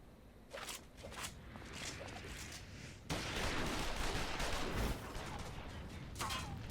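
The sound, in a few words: gunfire in video game Final Fantasy XIV Stormblood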